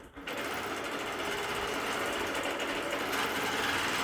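A sewing machine with a stitch regulator runs continuously after a brief start, its rapid needle chatter steady and close throughout the few seconds.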